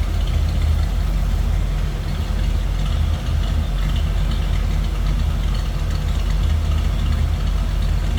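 A 1957 Chevrolet Bel Air two-door hardtop idles with a steady, deep exhaust rumble heard from the back of the car, loud and continuous with no talk.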